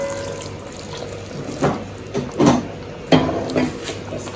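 Hot water is poured into a pot of cooking curry chicken on the stove, a bubbling, splashing pour with a few louder splashes and knocks near the pot.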